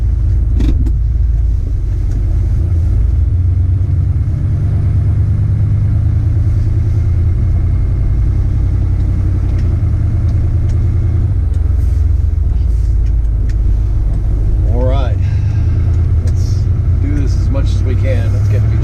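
A truck engine rumbles steadily as it drives across a dirt parking lot, a loud, continuous low drone close by for the whole stretch, with someone talking over it and brief squeaks near the end.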